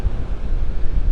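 Strong Hurricane Helene wind gusting at Vanderbilt Beach in North Naples, Florida, a loud low buffeting roar battering the microphone throughout a brief moment.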